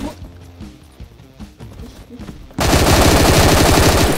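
Rapid automatic gunfire in a Roblox shooting game, a loud sustained burst of fast repeated shots that starts abruptly after a stretch of quieter game sounds and mechanical clatter.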